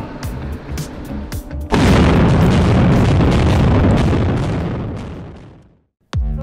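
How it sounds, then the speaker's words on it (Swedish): A tunnel-construction blast goes off as the last section of tunnel in Barkarby is blown out. After a few faint knocks, one sudden loud boom gives way to a long, heavy rumble that slowly fades, followed by a short sound at the end. "Så här såg det ut i Barkarby när den allra sista biten tunnel sprängdes ut."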